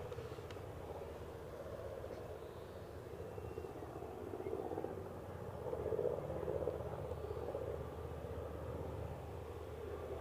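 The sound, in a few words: KLM airliner flying overhead near Aberdeen airport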